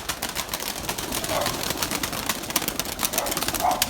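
A flock of tayfa breeding pigeons lifting off, a dense burst of fluttering, flapping wings close by with a few faint coos.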